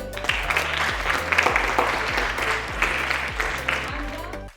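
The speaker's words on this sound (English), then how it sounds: "Let's clap for them." An audience applauds for chess players at a brain-training event, several seconds of steady, fairly close clapping with a few voices mixed in.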